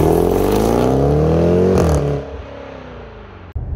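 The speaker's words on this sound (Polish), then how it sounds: "Słyszycie ten kompresor, słyszycie ten wydech, który po prostu ryczy." A 2022 Jaguar F-Pace SVR with a supercharged 5.0 V8 roars loudly under hard acceleration, engine note climbing with supercharger whine before easing off into a quieter rumble.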